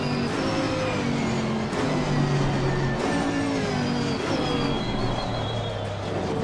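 Chevrolet Camaro GT4.R race car in Assetto Corsa Competizione, its engine droning steadily with shifting harmonic pitch as it drives on, loud and continuous with no talk.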